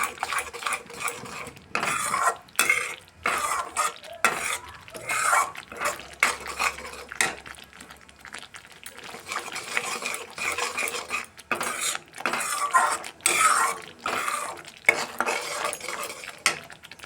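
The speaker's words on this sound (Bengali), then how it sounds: "অল্প মশলা আমি এর মধ্যে দিয়ে দিলাম দিয়ে একটু ভালোভাবে কষিয়ে নিচ্ছি" Masala with nuts being stirred and fried for an eggplant curry, a spoon scraping and knocking against the pan in steady, repeated strokes over a faint sizzle, close up and continuous.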